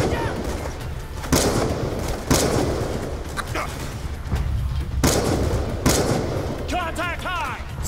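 Gunfire and explosions in Call of Duty Black Ops II, loud sharp bursts and booming blasts recurring every second or so over a rumbling battle bed, with shouted voices mixed in.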